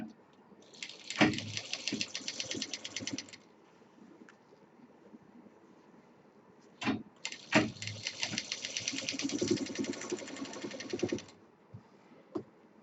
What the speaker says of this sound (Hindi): अब सेंटर से सेंटर मिलाते हुए सब हम सिल देंगे।